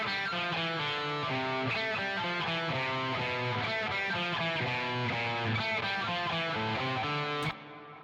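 Distorted electric guitar on a bridge humbucker pickup, playing a steady run of picked notes at a moderate, even level, ending abruptly with a short cutoff near the close.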